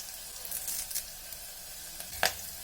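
Curry leaves sizzle in hot oil for a tempering of mustard seeds and onion, a soft steady hiss broken by a few crisp pops and spatters, one sharper crackle near the end.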